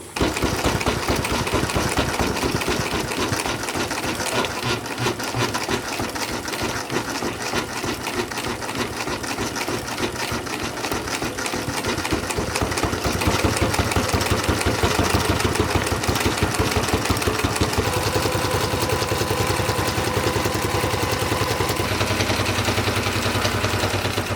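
A heavy-duty sewing machine hems a UV sacrificial strip onto a genoa or jib sail, running loud and continuous with a dense, rapid mechanical clatter that holds steady throughout.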